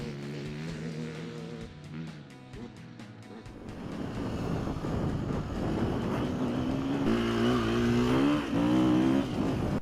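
A 2017 Husqvarna FE 350 four-stroke enduro motorcycle revs and accelerates, its engine note climbing through gears and growing louder and closer as it rides on, with no talk.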